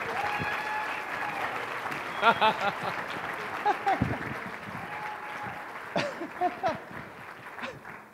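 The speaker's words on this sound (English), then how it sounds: "give her a huge round of applause" An audience claps steadily, with scattered voices and cheers rising over the applause.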